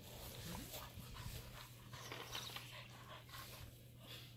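A dog panting close by, quick rhythmic breaths over a constant low hum, with faint background voices and small rustles.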